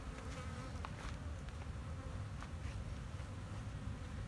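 A dense, steady buzz of many bees swarms close around a beekeeper in a bee yard after two hives were disturbed, with individual bees passing near.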